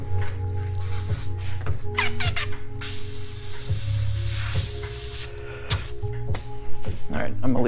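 An airbrush sprays paint onto a T-shirt for graffiti and calligraphy designs, with a sustained close hiss in the middle between short bursts, and someone talks over it.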